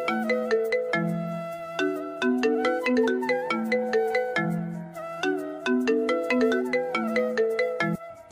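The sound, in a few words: phone ringtone, incoming call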